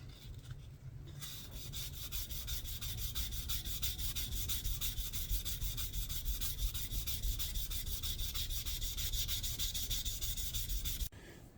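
A homemade knife hand sanded with 600 grit sandpaper gives a fast, even back-and-forth rasping that runs close and steady, starting after a brief pause and stopping abruptly at the end.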